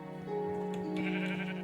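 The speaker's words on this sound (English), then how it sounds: "I found sheep instead" A sheep in a Minecraft-style video game bleats once, a drawn-out wavering baa heard close and clear with no talking.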